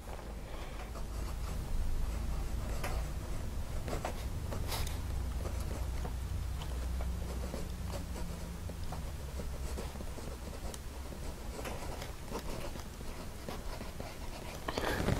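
Bexley Prometheus fountain pen with a broad, fairly wet nib writing on handmade paper, giving a soft continuous scratchy glide with faint strokes, close and quiet.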